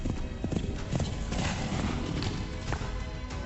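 Horse hooves clip-clop steadily on a hard surface, a continuous rhythmic clatter of several beats per second, fairly close, with a faint backing of music and ambience.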